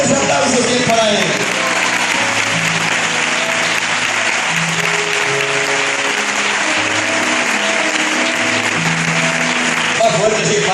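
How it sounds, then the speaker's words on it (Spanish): Loud, sustained applause from a church congregation fills the whole stretch, steady and dense, with a tonal music or voice layer running faintly underneath. "Fuertes aplausos bien para Él."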